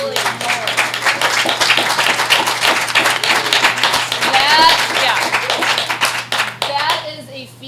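An audience at a school board meeting claps in a lively burst of sharp, close hand claps with some voices and an exclamation mixed in, tapering off near the end.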